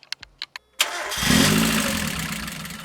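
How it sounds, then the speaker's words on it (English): Mazda Miata MX-5 with freshly changed alternator and power steering belts: a few sharp clicks, then the engine cranks and catches with a loud burst before settling into a steady, close idle. "So now let's get the car started and see how the belts sound."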